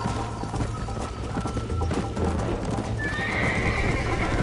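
A horse galloping in Red Dead Redemption, rapid rhythmic hoofbeats drumming close and loud, with snorts and a high whinny near the end.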